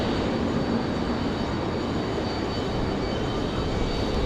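A SkyWest charter jet taxis at Raleigh-Durham International Airport toward the general aviation side, giving off a steady, loud, even engine roar with a faint high whine, continuous and without voices.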